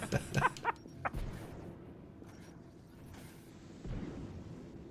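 Grenades going off during a Mass Effect 3 multiplayer match, a handful of sharp bursts early on, a heavier thud near the middle and another around four seconds, all fairly distant and muted against faint background noise.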